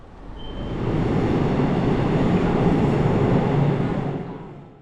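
A subway train on the Seoul metro, boarded at Hapjeong Station, rumbles past in a steady, loud roar that swells in, holds for several seconds and fades away, with no voices.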